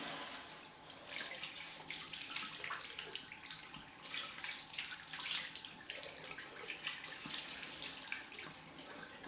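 Water runs steadily from a tap for a head-shave rinse, washing off Arko Hydrate shaving cream after a Leaf razor pass; a continuous hissing splash with slight fluctuations, close and alone.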